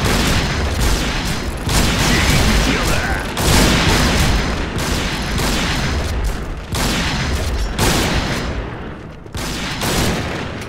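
Dense gunfire and booming blasts from the Thai-played online shooter Point Blank fill a continuous loud barrage, with bursts of shots layered over one another and players talking over the noise.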